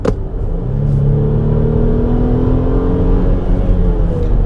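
Mercedes GLC 300 Coupe in sport mode accelerating from a hesitant start, the engine note climbing steadily in pitch as revs build, a close, loud, smooth drone with a rising whine throughout.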